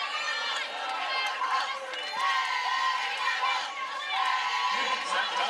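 A crowd at a night college softball game between Oklahoma and Iowa State cheers and shouts steadily, with bright voices and whoops all through, and excited chatter mixed in.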